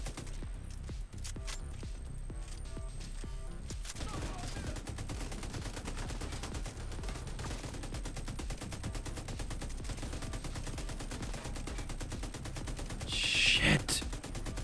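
Gunfire in the video game Division 2, a dense stream of rapid shots running almost the whole way over a busy game soundtrack, with a louder burst near the end.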